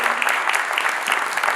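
An audience at the Gandhi Peace Awards applauds, a brief, steady patter of many hands clapping at moderate distance with no talk over it.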